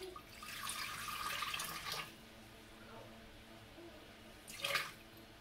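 Water poured into a Thermomix bowl on a scale, two quiet bursts of splashing flow, one longer and one shorter, separated by a near-silent pause in a quiet kitchen.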